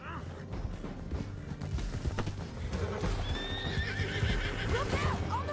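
Horses gallop and neigh in Red Dead Redemption 2 as riders head down a canyon, a steady drumming clip-clop under high, wavering whinnies that rise in the second half, with a voice speaking at the start.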